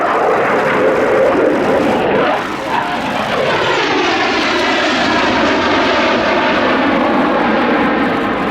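A jet aircraft, the tiger-striped jet, flies past at the Yeovilton Air Day 2017 airshow with a loud, steady engine roar whose pitch slowly sweeps as it passes, with no voices over it.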